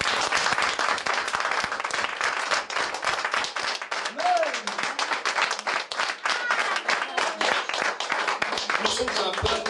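A congregation in a church claps together, a dense and lively burst of applause that runs throughout, with a brief voice or cheer rising through the clapping partway.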